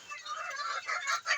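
Fayoumi chickens on a farm cluck and chatter continuously, close and moderately loud, with several overlapping calls and no speech.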